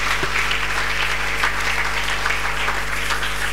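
A church congregation at a Sunday service claps and cheers in praise, a dense, loud, continuous wash of applause that fills the room from start to finish.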